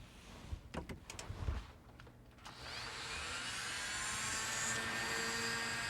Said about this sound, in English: at a low speed, just clean that up like this. Now this is the bristle brush, not the wire brush.